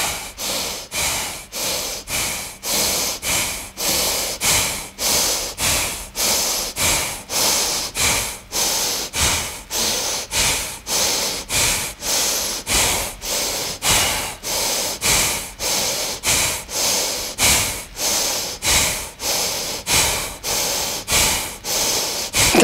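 Steady, deep breathing during a yoga-style concentration exercise, with rhythmic inhales and exhales repeating about every three-quarters of a second, close and fairly loud, with no talk.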